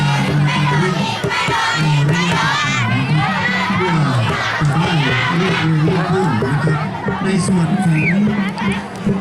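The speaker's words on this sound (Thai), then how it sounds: "คลิปนี้ก็ถือว่าเอามาดูบรรยากาศของกองเชียร์ก่อนนะ" A student cheering squad at a school sports and athletics meet in Mae Chai, Phayao, chants and shouts together, loud and close, with rhythmic group yelling, children's voices and crowd babble running continuously.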